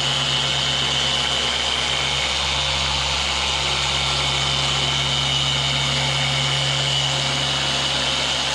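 Rotary car polisher spinning a wool pad over automotive clear coat to level scratches, a steady unbroken motor whine with a low hum, loud and close throughout with no talking.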